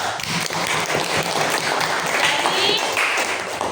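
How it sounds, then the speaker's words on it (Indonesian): Class of children clapping their hands together, a dense, close burst of claps mixed with voices talking. "tepuk tangan dulu"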